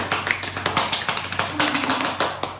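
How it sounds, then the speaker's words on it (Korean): Applause greeting a graduate guest of an aviation tourism department, a quick steady run of close, crisp hand claps, a sharp clap every fraction of a second, with no talking. "박수!"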